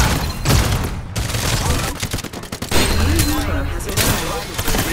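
Gunfire in the video game Farlight 84 comes as dense, loud volleys of rapid shots and thuds that fill the stretch, with brief lulls and game sound effects layered between bursts.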